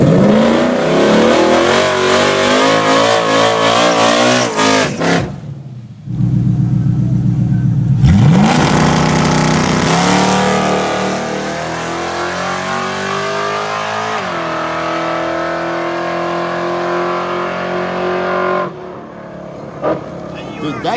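A loud Coyote-engined Mustang drag car roars and revs hard on a drag strip, climbing in pitch as it accelerates away, with a brief gap and then a sustained high-speed drone.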